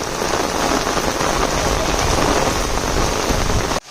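Heavy rain pours down outdoors during a rainy-day downpour, a loud, dense, steady hiss of drops on surfaces that holds constant before cutting off abruptly near the end.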